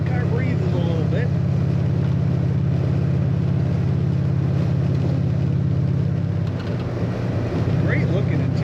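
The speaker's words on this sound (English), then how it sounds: "you're going to hear some wind noise" Wind rushing around old window seals inside a driving 1956 Oldsmobile Holiday Coupe, a steady whoosh over a low constant engine and road drone, close and loud, with some talking.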